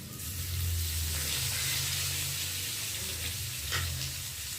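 Spices, ginger paste and tomato frying in a pan, giving a steady, dense sizzle that holds evenly throughout at close range, with no talking.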